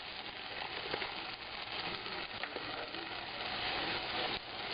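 Mango barbecue sauce poured into a hot pan sizzles steadily and close, a dense crackling hiss that holds for several seconds.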